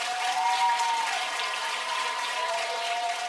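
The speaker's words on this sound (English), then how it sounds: "Can you give them a round of applause for that?" Audience applause at a fifth grade end-of-year promotion ceremony at Pineview Elementary School, a steady, moderate wash of clapping that holds evenly for a few seconds.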